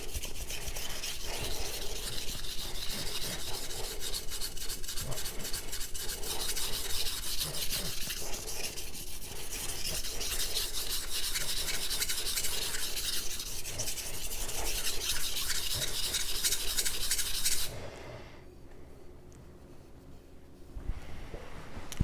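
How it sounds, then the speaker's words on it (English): A knife blade is drawn back and forth across a Sharp Pebble whetstone, producing a steady close rasping scrape in regular strokes for most of the clip before it quiets near the end. "you can see if we can do the knife beyond the edge of the stone, we can use the entire stone"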